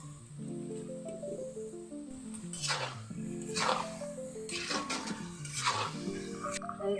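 Beef tipped into a pot of fried spices and stirred, with soft wet squelching and scraping bursts over a steady low sizzle, close and fairly quiet, while background music plays.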